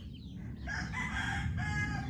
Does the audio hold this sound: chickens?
yes